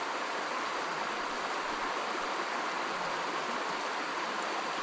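A mountain river rushes and burbles continuously nearby, a dense, steady wash of flowing water with no voices.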